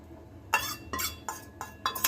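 A spoon stirs sugar into a mixture in a pot for bread malai cake, making soft scraping clinks in steady strokes about three times a second, close and moderately quiet, with no talking.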